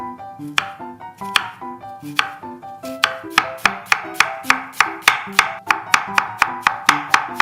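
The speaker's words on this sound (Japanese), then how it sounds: "じゃあ玉ねぎをみじん切りにしていきましょ" Sharp, rapid knife strokes chop a quarter of an onion finely on a cutting board, the steady rhythm of close, crisp thuds growing faster and more regular toward the end, with no voices.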